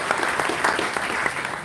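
Audience applause in a civic hall during a Missouri City mayor's State of the City address, a steady, dense wash of clapping sustained throughout with no talk over it.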